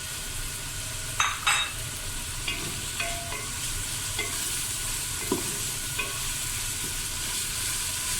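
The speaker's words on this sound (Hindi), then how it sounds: "इसको मैं थोड़ा सा भून लूँगी अदरक और लहसुन को" Ginger and garlic frying in oil with whole spices such as cinnamon and cardamom for beef haleem, a steady sizzle with a few stirring scrapes and light clinks, close and continuous without talk.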